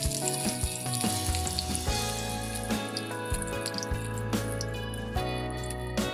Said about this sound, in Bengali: দেখো শাক ভাজা বসিয়ে দিয়েছি তেল দিয়ে লঙ্কা সামান্য পাঁচফোড়ন